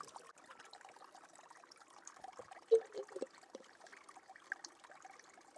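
Faint trickle of spring water along a hiking trail on the High Coast Trail, a soft quiet dribble with a few brief splashy drips near the middle, no talking.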